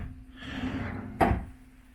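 A dresser drawer in a hotel family suite at a beach resort slides open with a soft rumbling rush, then shuts with a single sharp knock, close and clear in a quiet room.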